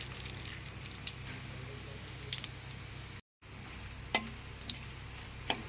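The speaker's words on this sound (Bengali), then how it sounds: "ফোড়নে দিয়ে দিচ্ছি তেজপাতা," Bay leaf, dried red chili and whole cumin sizzle softly in hot oil in a pan, a faint steady crackle with a few sharp pops and light stirring, close by and quiet.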